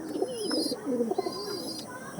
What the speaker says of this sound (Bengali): অসাধারণ কোয়ালিটির পায়রা বন্ধুরা